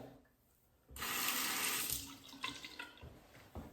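A tap runs briefly to rinse a safety razor during a shave, a bright steady gush of water starting abruptly then tapering, followed by a few splashes and small knocks at the sink, close up.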